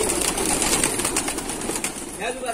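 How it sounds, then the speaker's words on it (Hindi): Gardaan breed pigeons from Bareilly, offered for sale in Amroha, give soft cooing and rustling in a busy loft with a steady background din and a brief flutter near the end. "सब गर्दान कबूतर है बरेली का।"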